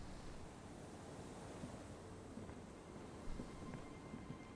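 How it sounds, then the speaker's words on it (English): Ocean waves wash in the video game Disco Elysium, a steady low roar of surf with soft wind-like hiss, constant and fairly distant, without speech. "The waves are beginning to die down."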